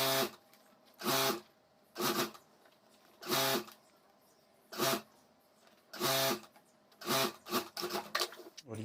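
A sewing machine stitches a zipper onto a homemade school bag in short, separate bursts of whirring, each a second or so long, with pauses between them.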